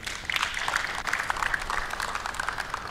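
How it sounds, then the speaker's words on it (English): Soft, distant clapping rises for a player after a drill at a post-play practice session. It makes a steady, even patter throughout, with faint voices underneath. "Give him a clap there, pretty good."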